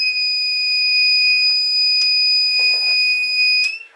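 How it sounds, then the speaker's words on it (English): A 4000W power inverter sounds its alarm, a loud continuous high-pitched electronic tone that holds steady, with a few soft clicks and rustles beneath it before it cuts off at the end. "A lot of beeping sounds."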